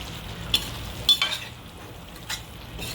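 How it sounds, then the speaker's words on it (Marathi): Mixed vegetable bhaji being stirred in a pan after chopped coriander goes in, a faint low sizzle with a few light clinks and scrapes of a spoon, close and quiet. "आता ह्याच्यामध्ये ना 1 चमचा कोथिंबीर टाकूया बारीक कापलेली आणि मिक्स करायचं"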